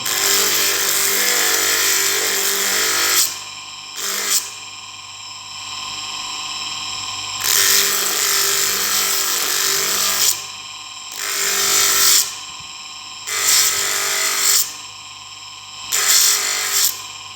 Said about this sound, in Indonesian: sekarang baru kita amplas di permukaannya